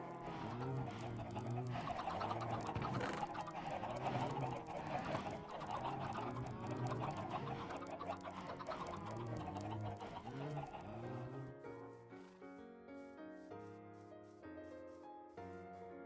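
Chickens in Minecraft cluck repeatedly, several birds overlapping in busy, close game audio for most of the clip before thinning out near the end, with no talking.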